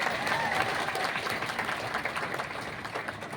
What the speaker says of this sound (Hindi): कुछ सम्मान करेंगे ताली बजा के।